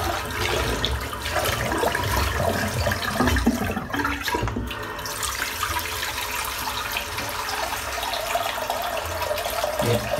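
Water runs steadily from a bathroom sink tap while a razor is rinsed, a continuous close splashing hiss with a few brief dips and clatters, no voices over it.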